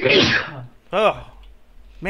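A single sharp sneeze bursts out loud and close at the start, followed by brief spoken reactions from people chatting over voice chat during a late-night online game session.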